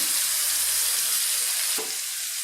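Kasuri fish pieces fry in a little oil over a low flame, giving a steady, close hiss of sizzling with a brief soft clink near the end and no voices.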